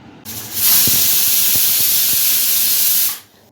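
A loud, sudden burst of hissing gas while an LPG cylinder is being connected, holding steady for about three seconds before cutting off, with faint clicks underneath.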